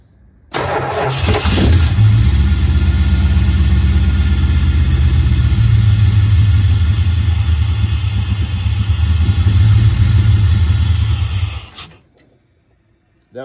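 A car engine fitted with an Aces EFI fuel-injection system cranks, catches and runs loud and steady at a fast idle for about ten seconds, then abruptly stalls into silence.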